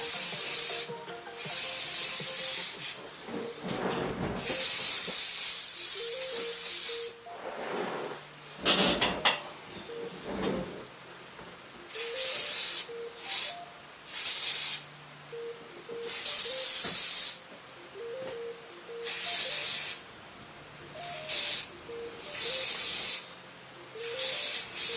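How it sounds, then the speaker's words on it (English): Devro Complete Stronghold aerosol hairspray sprays in repeated bursts of loud, close hissing, some short and some several seconds long, separated by brief pauses with faint handling sounds. "Devro Complete Stronghold Hairspray in the aerosol"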